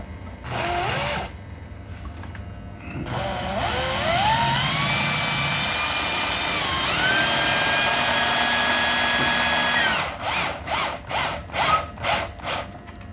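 A power drill driving screws up into ceiling timber during overboarding, a short burst, then a long steady whine that climbs in pitch, followed by a run of six quick pulsing bursts, loud and close.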